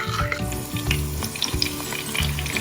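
Mustard paste with black cumin and green chilli hitting hot oil in a pan, giving a steady crackling sizzle with scattered pops and spits throughout.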